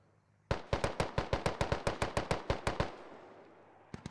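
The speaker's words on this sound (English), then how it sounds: "Trading bullets" In the military shooter Squad, a loud close automatic weapon fires a rapid burst of about fifteen evenly spaced shots, then echoes fade, followed by two faint distant shots.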